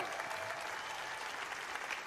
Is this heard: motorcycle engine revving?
no